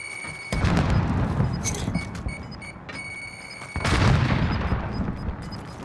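Sudden heavy blasts from a grenade in Call of Duty: Modern Warfare, one early and a stronger one near the end, crash over a dense bed of rattling gunfire and battle noise.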